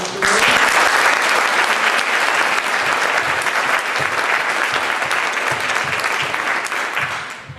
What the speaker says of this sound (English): if we could just give her a round of applause